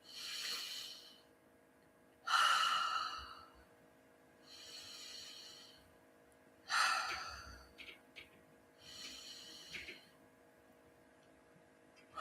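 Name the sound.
three big deep breaths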